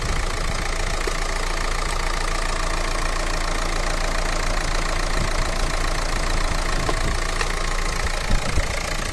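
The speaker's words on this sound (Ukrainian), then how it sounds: "Двигун працює рівненько." The 1.5 diesel engine of a 2013 Renault Megane III idles steadily nearby, a dense continuous clatter and hum with no pauses or changes in pace.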